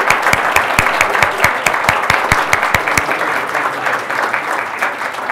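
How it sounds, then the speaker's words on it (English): Audience applause for Commerce Secretary Penny Pritzker at the close of a university keynote lecture, a dense steady clapping that rings out loudly and fades slightly toward the end, with no talk over it. "Please join me in a final round of applause for Secretary Pritzker."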